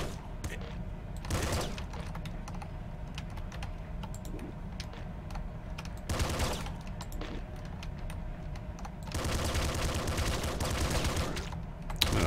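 SMG gunfire in the video game Nuclear Throne, short bursts of rapid shots in a few clusters, with a longer sustained burst near the end over a busy game-sound background, and no talk.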